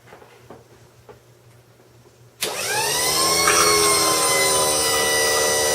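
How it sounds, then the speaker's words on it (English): A mini hydraulic power unit pump starts abruptly after a quiet moment of faint clicks, then runs steadily with a loud, even motor whine and hum that holds to the end. "I think I'll fire this pump up and see what it does"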